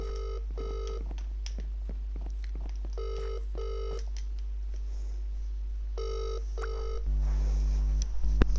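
A telephone rings unanswered in repeated pairs of electronic trills with pauses between them, clear and steady over a low constant hum, then a louder buzzing tone near the end.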